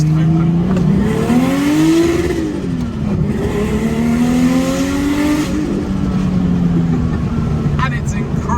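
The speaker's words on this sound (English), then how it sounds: "it sounds hilarious because the gate's just open." Porsche 964 Turbo engine revving with its wastegate stuck open from a wrong spring, running low boost; a loud, steady drone with rising and falling harmonics, with voices over it.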